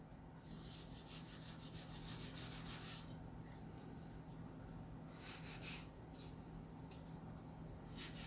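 Wood is sanded by hand in the workshop while building a model, a faint repeated back-and-forth rubbing in steady strokes, with no talking.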